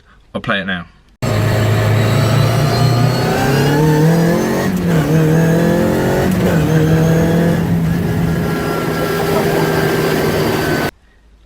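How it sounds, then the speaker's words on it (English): Race car with a sequential spur-cut gearbox revving and accelerating hard, engine note climbing through several rapid upshifts with a loud gear whine, close and sustained after a brief spoken line at the start. "Yes, so that is a sequential spur cut gearbox."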